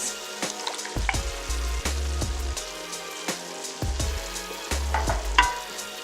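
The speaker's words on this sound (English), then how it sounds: "we've got the meats all cooked up in the pot, so now we're gonna add our tomato sauce" Tomato sauce poured into a pot of cooked ground meat ragu for arancini, a steady close sizzle and frying hiss with repeated stirring scrapes and low clunks of a spoon against the pot.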